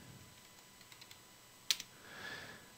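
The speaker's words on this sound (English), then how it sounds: "I'm going to type in 2048." Quiet typing on a computer keyboard, a few soft scattered key taps followed by a sharper pair of clicks, then a faint whooshing hiss; recorded close and at low level with no talking.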